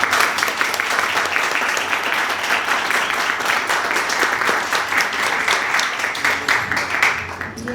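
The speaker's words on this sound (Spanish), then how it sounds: "regálenme un fuerte aplauso para ellos" An audience at a talk on artificial intelligence in writing and editing claps loudly and steadily for presenters, a dense, sustained burst of applause with no voices over it.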